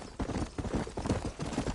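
Horse hooves clip-clop at a slow walk out of a frontier town in the Red Dead Redemption game, a steady, moderately close rhythmic clatter over dusty ground.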